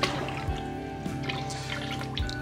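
Oxalic acid solution is poured into a container, a short close liquid pour with a couple of soft plopping drips and gurgles over a steady trickle.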